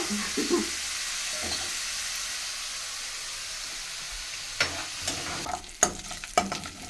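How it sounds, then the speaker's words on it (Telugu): Prawns, onions and green chillies fry together in a pan, a steady hissing sizzle that runs throughout, then several sharp scrapes and knocks of a spoon stirring near the end, close up and without speech. "బాగా ఫ్రై అయినాయి రొయ్యలు ఉల్లిపాయలు పచ్చిమిరపకాయలు"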